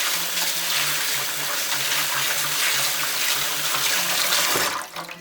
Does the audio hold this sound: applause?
no